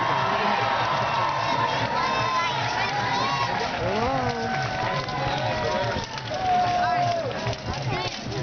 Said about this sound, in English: take your applause from your people